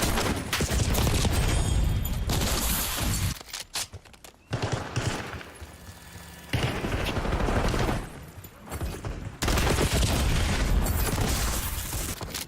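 Video game combat with dense automatic gunfire and heavy booms, where an enemy grenade goes off amid the shooting, loud and close, in long bursts broken by short quieter gaps.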